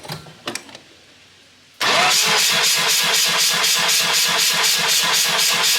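After a near-silent pause with a few faint clicks, a rotary engine in a Samurai abruptly begins cranking for a rear-rotor compression test: a steady, loud, evenly pulsing starter churn.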